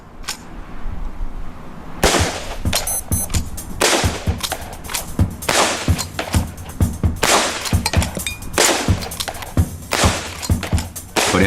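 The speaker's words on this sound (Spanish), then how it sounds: "El siguiente es el rifle Henry de repetición, utilizado por los Lakota y los Cheyenne. Cuando quieras, empieza a disparar." A Henry repeating rifle fires rapid shots, one after another, in loud, sharp cracks spaced about half a second apart. A quiet stretch comes first, and the firing then runs without a break.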